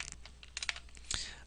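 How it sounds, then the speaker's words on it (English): Fingers type on a computer keyboard in quick, irregular bursts of close, crisp key clicks. A slightly louder keystroke comes near the end. "if you watch as I type"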